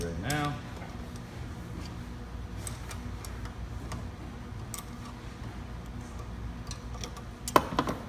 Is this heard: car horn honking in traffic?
no